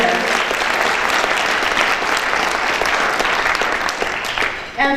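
Dense, sustained audience applause at a Hmong Wisconsin Chamber event speech, loud and even throughout, with a brief dip near the end.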